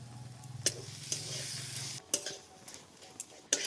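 Katla fish filling with coriander leaves and garam masala being stirred in a pan: a soft, steady sizzle with a low hum through the first half and a few sharp spoon knocks and scrapes against the pan.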